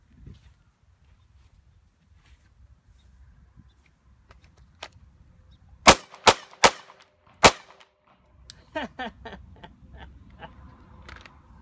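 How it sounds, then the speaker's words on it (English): Gunshots are fired at a rubber dummy outdoors: four loud, sharp reports spaced about half a second apart, followed by a cluster of quieter cracks and metallic clinks. "Let's continue to shoot this thing."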